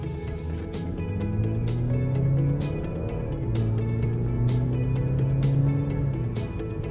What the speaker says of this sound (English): really like how this engine sounds.